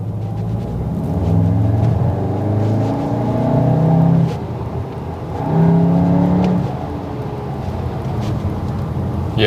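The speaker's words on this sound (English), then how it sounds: "the sound is definitely louder from the exhaust" A loud, deep engine rumble with throaty exhaust from a VW Tiguan R SUV in sport mode that swells as it accelerates, dips briefly, then surges again, steady and close.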